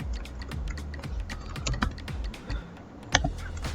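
Someone types on a computer keyboard in a dense run of close, clicky keystrokes with an uneven rhythm, occasional louder key hits and a brief pause.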